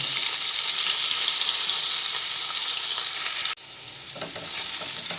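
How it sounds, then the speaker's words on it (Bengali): Salted potato pieces fry in hot oil for ghugni, a loud, dense close sizzle that cuts out abruptly partway through, then returns more softly with a few stirring clicks. "আলুগুলো তেলের মধ্যে দিয়ে ভালোভাবে ভেজে নেব"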